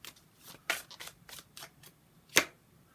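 Tarot cards being shuffled during a reading for Aries: a series of soft, riffling card shuffles and flicks in close succession, ending with one sharper snap, heard close up with no talking.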